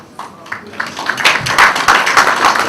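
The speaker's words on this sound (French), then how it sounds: "Merci d'applaudir pour M." Audience clapping at an international business forum, starting as scattered claps and swelling into steady, fairly close applause that holds to the end.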